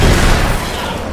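A single loud, booming gunshot from a gun in the game Alan Wake's American Nightmare, close and short, then decaying quickly.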